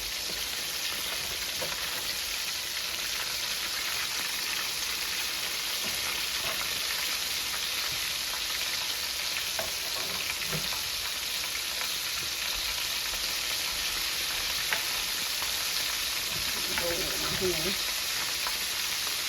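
Chicken livers frying in a pan, a continuous soft crackling sizzle with occasional pops, steady and moderately faint, with a brief low voice near the end.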